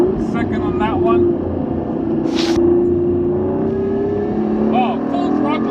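An Aston Martin V8 roars steadily at full throttle up a mountain road, its engine note rising smoothly in pitch, while someone talks over the engine sound.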